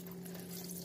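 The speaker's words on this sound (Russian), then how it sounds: "Как слышите, насос внутренний заработал" An internal water pump runs inside a 1997 Bailey Ranger 520/5 caravan, giving a steady, low, faint hum that holds even throughout with no pauses.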